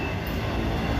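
Freight train cars bound for Virginia roll past in Abbeville, a loud, close, dense rumble and rattle that holds steady throughout.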